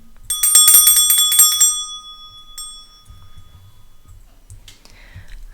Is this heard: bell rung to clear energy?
yes